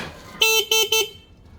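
Three short, loud car horn honks in quick succession, close by, followed by quiet.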